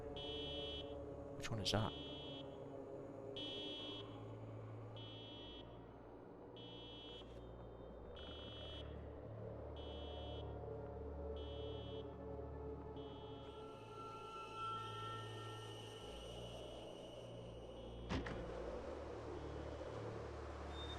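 A distant alarm in the zombie survival game Project Zomboid, a repeating electronic beep pulsing steadily in the background under ambient game noise, with a brief spoken question over it.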